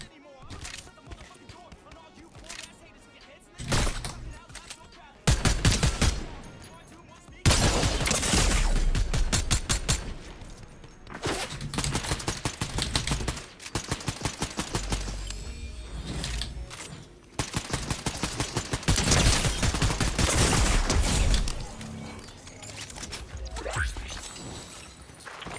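Gunfire in the video game Fortnite comes in loud rapid bursts and volleys with mechanical weapon clatter between them, while a player talks over the action.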